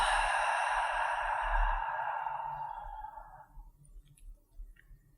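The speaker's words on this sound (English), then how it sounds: "Taking a full inhalation through the nose and an audible exhale through the mouth." A long, breathy exhale through the mouth during a Nadi Shodana alternate-nostril breathing practice, close and steady, fading out over about three seconds into quiet room tone.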